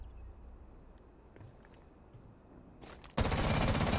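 Twitch's gun in Rainbow Six Siege fitted with an extended barrel, firing a loud, dense full-auto burst that starts abruptly near the end after a quiet stretch with faint ticks and clicks.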